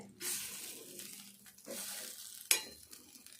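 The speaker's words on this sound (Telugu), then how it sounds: "ఇట్లా మెల్లగా దగ్గరికి వచ్చేదాకా ఇదంతా మంచిగా కలుపుకోవాలి" Green peas and potato curry stirred in a pan, a spoon scraping in soft repeated strokes with a faint sizzle, and one sharp clink near the end.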